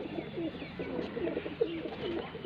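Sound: pigeon

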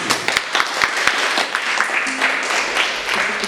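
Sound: applause for the children

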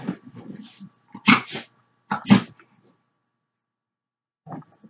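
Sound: dogs barking and growling

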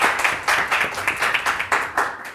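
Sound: audience applause

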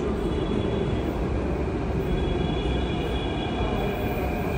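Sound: metro train ride to the airport

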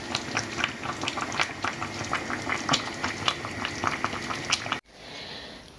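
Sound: varenyky dumplings boiling in water

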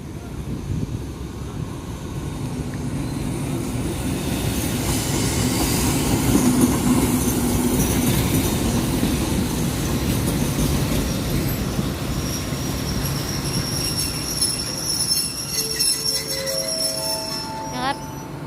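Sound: ordinary train hauled by Hitachi locomotive at Photharam station

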